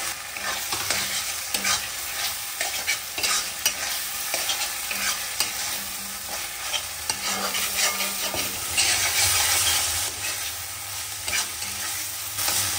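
Spice masala for a dried loitta fish bhuna is stirred and fried in a pan, a continuous crackling sizzle broken by repeated scraping strokes of the spoon, close and steady throughout.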